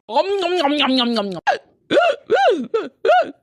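A person hiccups repeatedly in a domestic setting: a voiced stretch gives way to several sharp, close hiccups in an uneven rhythm, each a short abrupt vocal jump, clear and fairly loud.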